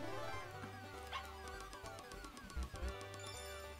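A cartoonish dog in the Nintendo Switch game Part Time UFO gives a run of short, bright yips and barks over upbeat game music and sound effects, no talk.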